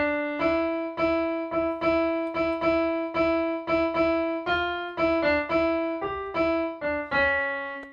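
A keyboard plays the Ganesh Aarti chorus as a steady run of about twenty distinct notes in an even rhythm. The tone is clear and sustained, with no talking.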